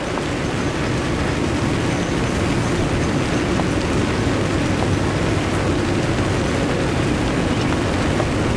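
Steady rain pours across the golf course during the first round of the 2010 Masters, a dense, even hiss that holds constant throughout with no voices.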